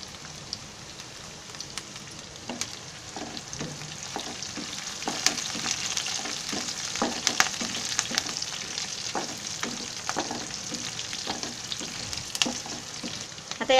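Curry leaves and green chillies sizzling in frying oil for a broccoli vegetable biryani, a steady close crackle with sharp pops scattered throughout, growing a little louder midway.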